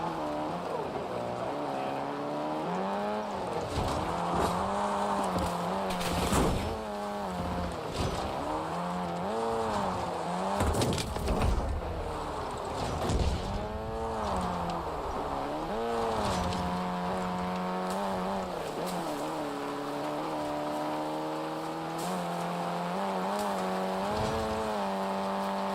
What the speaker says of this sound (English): Again, this car is really loud.